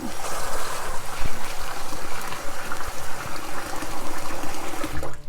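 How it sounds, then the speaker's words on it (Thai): Rice rinsing water splashes and gurgles as it is poured out, a continuous sloshing stream with small knocks, close and fairly loud, with no talk. "นี่เขาเทน้ำออกนะคะ เทน้ำแรกออก"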